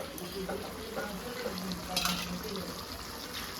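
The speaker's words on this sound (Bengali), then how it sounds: "রসুন বাটা দিয়ে আবার ভাজবো।" Garlic paste frying in a pan for mutton curry: faint, steady sizzle with soft stirring scrapes and a brief clink of utensil on pan, recorded quietly with no speech.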